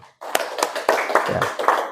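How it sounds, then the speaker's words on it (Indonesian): A small class claps for a student during a teaching session, a few separate, uneven hand claps close by that begin after a brief silence, with a voice faintly present. "kasih tepuk tangan dulu untuk Yosef"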